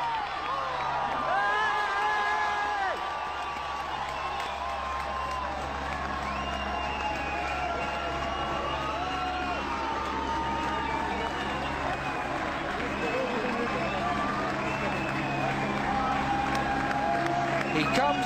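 A large crowd at the Roubaix velodrome roars and cheers continuously as Tom Boonen arrives to win Paris-Roubaix 2012, with loud sustained whoops and applause under a commentator's voice.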